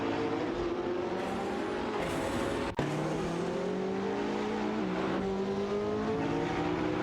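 Engines of race cars in a racing video game roar steadily, including a Jaguar F-Type Project 7 overtaking, with rising and falling revs and gear shifts and a brief dropout midway.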